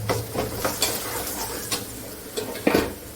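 A tempering of asafoetida, garlic and turmeric sizzles in hot oil in a pan, with a steady frying hiss broken by several sharp clicks and scrapes of a spoon stirring against the metal, close and without talk.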